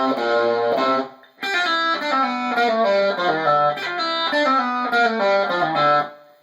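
Electric guitar playing a pull-off riff, clean with slight grit, a quick repeating run of plucked and pulled-off notes in bursts after a brief pause.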